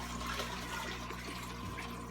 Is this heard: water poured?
yes